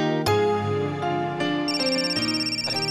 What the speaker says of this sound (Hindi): अरे फोन आ गया।